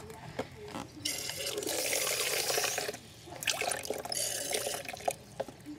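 Water poured from a bucket onto a plant on a farm, splashing and trickling in two bursts separated by a short pause, close and moderately loud.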